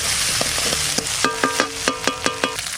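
A paste of chilli, cumin and ginger sizzles in a hot pan as a steady hiss, while a spoon scrapes and taps against the pan in a regular rhythm of close, sharp clicks.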